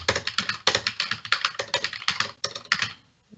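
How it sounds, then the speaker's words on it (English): Two people hammer on computer keyboards as loudly as they can, a dense, close stream of clattering keystrokes that stops abruptly at the end. "We're just going to sit here and type as loudly as possible on our keyboards."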